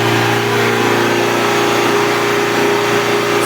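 An Alfa Romeo 159 1.9 MJet diesel engine runs loud and steady during a forced DPF regeneration on a clogged filter, a constant close drone with no talk over it.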